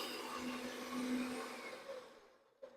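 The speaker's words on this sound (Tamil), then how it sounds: "ஸோ இப்போ வந்து ஆன் பண்ணிங்கன்னா இங்கே பாருங்க, சாத்துக்குடி இங்கே வச்சு நம்ம பிழிஞ்சிக்கலாம்" An AGARO Grand food processor runs while juicing sweet lime, giving a steady loud motor whir with a grinding buzz that keeps on for over two seconds, then drops away near the end.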